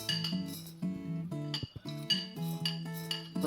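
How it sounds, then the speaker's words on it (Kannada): Metal pan set down on a stove before dry roasting spices, a few close clinks and knocks of cookware ringing briefly, with no talk. "ಸ್ಟವ್ ಆನ್ ಮಾಡಿ ಒಂದು ಪ್ಯಾನ್ ಇಡೋಣ."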